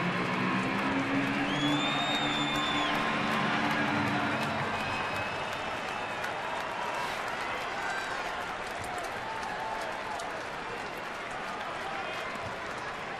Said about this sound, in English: The sellout crowd has been kept quiet by the Cardinals here this afternoon until now.